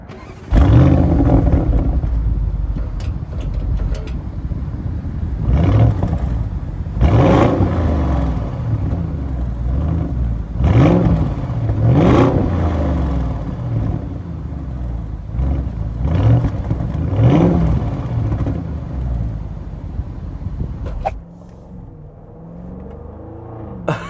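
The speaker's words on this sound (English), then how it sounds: "this engine right here, since it's a V8, you can expect the sound that you're gonna get at the back of this car" From inside an Audi SQ7, the V8 engine is revved repeatedly, about six rising and falling surges in a deep rumbling rhythm before dropping to a quieter idle near the end.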